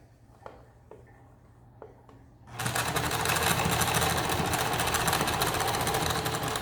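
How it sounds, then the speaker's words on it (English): A few small clicks, then a sewing machine starts and runs continuously, loud and close, stitching pieces of a homemade face mask together. "So here I'm just going all the way around to stitch those together"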